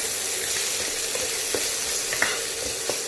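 Egg fried rice with vegetables being stirred in a hot pan while making chicken fried rice: a loud continuous sizzle with occasional soft scrapes and taps of the spatula, close up and without any voices.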